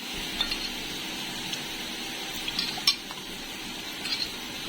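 Okra and shrimp with salt and turmeric frying in a pan, a steady faint sizzle with occasional light utensil clinks and stirring.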